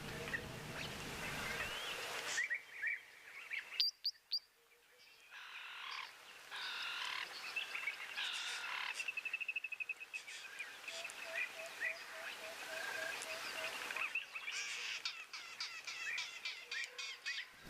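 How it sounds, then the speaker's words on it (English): Wild birds, including emerald-spotted wood doves, call across open African bush where springbok graze, a layered chorus of squawks, croaks and repeated tonal calls at moderate distance with no voices. "So lovely with all this bird audio."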